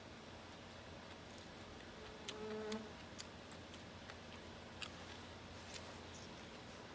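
A bee buzzes faintly over steady background noise, with a brief louder drone near the middle.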